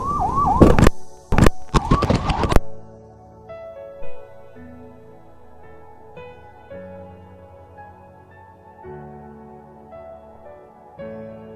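A loud wailing ambulance siren rises and falls close by on the road, then cuts off abruptly, leaving a low droning hum of traffic or engine noise.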